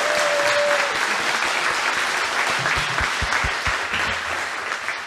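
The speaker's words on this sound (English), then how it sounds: "round of applause for them" A live audience at a Gettysburg trivia show gives the contestants a full round of applause, dense and loud at first and then thinning slightly toward the end, with no voices over it.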